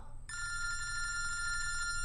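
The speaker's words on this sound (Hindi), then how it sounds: "फोन उठा, मेरा फोन उठा।" A telephone rings with a continuous electronic trill, steady and fairly close, over a low background rumble, in a Hindi action movie scene.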